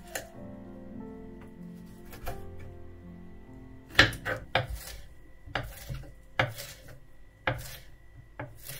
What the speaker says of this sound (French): Je découpe également du poivron rouge.